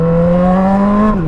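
A Kawasaki Z1000 motorcycle with a straight-pipe exhaust roars very loud and close, holding a steady deep engine note before it dips slightly at the end.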